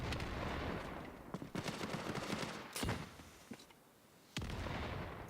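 Gunfire in a competitive online shooter match on the Manorhouse map, with carbines and a Thompson in use: rapid bursts and single cracking shots, some near and loud, others more distant, with a few short pauses between volleys.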